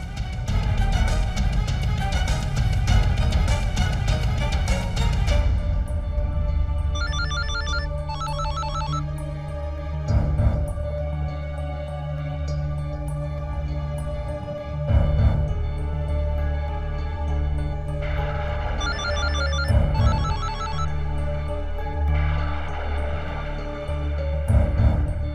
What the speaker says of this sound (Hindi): जगत फोन क्यों नहीं उठा रहे?